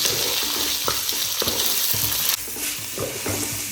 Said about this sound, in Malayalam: സവാള ഇട്ടതിന് ശേഷം നല്ലതുപോലെ ഇളക്കി കൊടുക്കണം